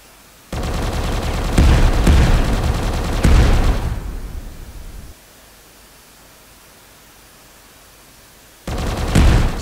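Sniper-like energy weapon in a video game blasting ground units: loud, broad bursts of fire over roughly four seconds with sharp peaks, then near silence before another burst starts at the end.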